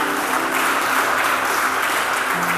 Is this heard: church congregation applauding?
yes